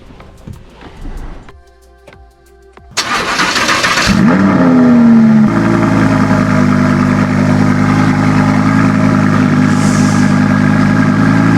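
A Lamborghini engine cold-starts, cranking and firing with a loud, sharp roar, revs up high, then settles into a loud, steady, rumbling idle.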